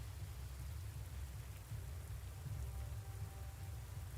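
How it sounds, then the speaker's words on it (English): Rain falling in the wartime strategy game Panzer Corps II, a soft steady hiss of rainfall with low rumbling underneath, quiet and unbroken, no speech. "More fucking rain, huh?"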